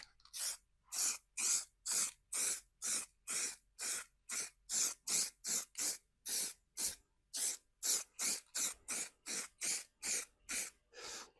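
Rapid bursts of aerosol spray paint fired into a test bag, about two dozen short hissing blasts in a steady rhythm, close and loud with brief gaps between each, no voices.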